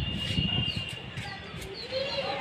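Gola pigeons in Hyderabad coo softly and steadily with a few light chirps under low outdoor background noise. Muffled movement and faint voices sound nearby.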